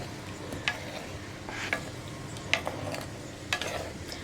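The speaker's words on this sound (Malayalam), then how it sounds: "ഇനി ഇതൊന്ന് ഇളക്കി കൊടുക്കുക എണ്ണയിലിട്ടിട്ട്." Gooseberries stir and fry in hot oil for a homemade gooseberry pickle, a soft continuous sizzle punctuated by sharp spoon-on-pan clinks about once a second, with no talking.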